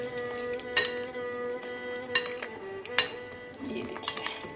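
A spoon mixes a yogurt and eggplant dish in a pan, with sharp metallic clinks against the pan at irregular intervals and softer scraping and stirring between them, close by, while someone speaks at times.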